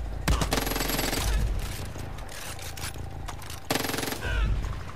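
Turret guns rattle off rapid machine-gun fire in the Far Cry 5 video game, two sustained bursts separated by a quieter stretch, loud and close with mechanical clatter.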